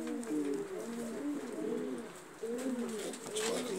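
Domestic pigeons cooing close by, soft warbling calls repeating steadily over a low, constant background.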